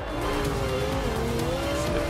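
Car driving in the racing video game Forza Horizon 2, a steady loud engine drone with a slowly rising tone throughout, no voices.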